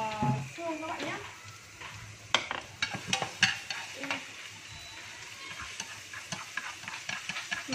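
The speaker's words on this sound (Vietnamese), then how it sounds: "Rồi mình tiến hành cho xương vào xào các bạn nhé" Bones are stir-fried in a pan with garlic and turmeric: a continuous sizzle broken by busy metallic scraping and clatter of the utensil, with a voice talking at times.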